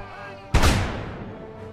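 Cannon or musket volley from an Empire: Total War battle fires in one loud, close boom that decays over about a second, with a faint musical background beforehand.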